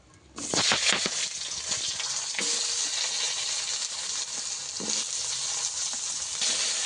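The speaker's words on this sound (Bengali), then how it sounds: "মাছ ভাজার তেলের মধ্যেই বেগুনটাকে ভালো করে ভেজে নেব।" Eggplant goes into hot oil left from frying fish and bursts into a loud, close sizzle that settles into a steady crackling fry, with brief stirring sounds.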